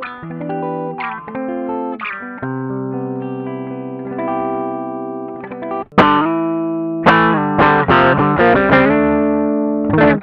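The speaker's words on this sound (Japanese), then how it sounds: "音はね、結構粒の細かい歪みの印象があって、とにかく優しく弾いた時の音が綺麗でめちゃくちゃ好きです。" Electric guitar played through a Klon KTR overdrive pedal, fine-grained mild distortion with sustained chords and picked notes, a pause and then harder strummed chords ringing out, loud and alone.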